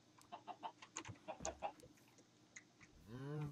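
Chickens in the game Minecraft give a run of short, quick clucks in close succession, then fall quiet before a different low, rising tone swells at the end.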